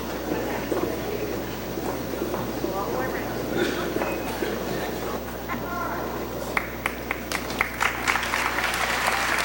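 A crowd at a 2003 school graduation ceremony breaks into sustained applause, with a voice speaking over the clapping, which thins to a few scattered claps near the end.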